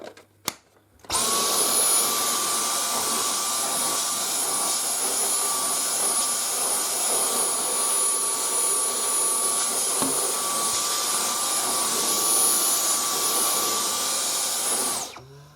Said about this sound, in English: to get the bits out of the corners, I'll have to use the trusty crevice tool